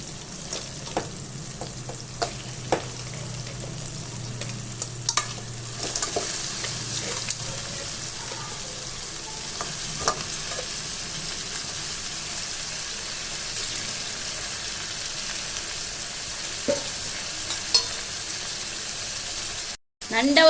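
Crab pieces fry and sizzle in oil in a pan for a long stretch, a steady close hiss with scattered clicks and scrapes of stirring, faint talk in the background.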